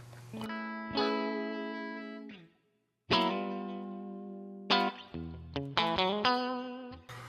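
An electric guitar plays through a Line 6 Pod Express on a clean setting: a few sustained ringing chords with a pause, then shorter strummed and picked chords in quick succession.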